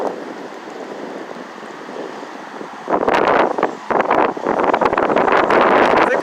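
Strong wind buffets a phone microphone outdoors in flooded Santa Rosa Beach, Florida during Hurricane Sally, a steady rushing roar that turns into loud, gusty bursts of blustering noise in the second half, with rain likely mixed in.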